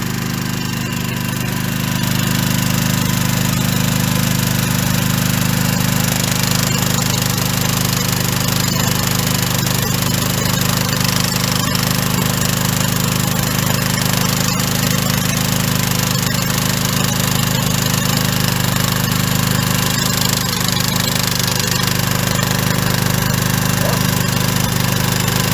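A small Honda generator engine runs continuously, a loud, steady drone with a constant low hum and no change in speed or load across the whole stretch, and no voices.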